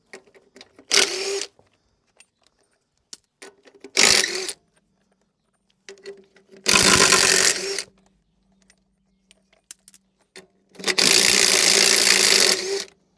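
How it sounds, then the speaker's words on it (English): Land Rover wheel nuts being spun loose with a hand ratchet on a jacked-up vehicle, heard as four separate bursts of rapid ratcheting clicks, each lasting about a second or longer, with quiet gaps between them. "we already cracked these wheel nuts off with a breaker bar, so we're just loosening them off now"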